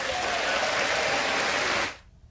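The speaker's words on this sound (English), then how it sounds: "A round of applause from congressional members there tonight." A room full of members of Congress claps in sustained, dense applause that cuts off abruptly near the end, leaving quiet.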